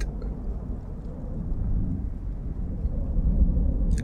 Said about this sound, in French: Oh, on a une tempête. Oh non, pas une tempête.